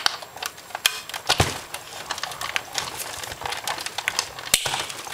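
A manual die-cutting machine presses paper through Thinlet dies with a run of sharp crackling clicks and snaps, irregular and close, with a couple of louder cracks and no voices.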